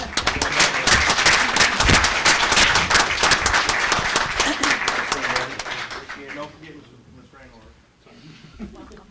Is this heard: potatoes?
no